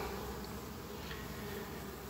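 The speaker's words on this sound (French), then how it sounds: "Elle déborde d'abeilles." Dense, steady buzzing of honeybees spilling out of an overflowing hive box, a continuous close drone with no pauses and no voices.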